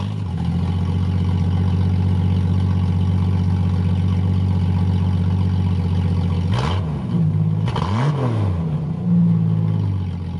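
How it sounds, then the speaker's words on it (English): A loud Jeep engine with no muffler idles with a deep, throaty rumble, then revs briefly twice before settling back. "here's what the Jeep sounds like with no muffler at all"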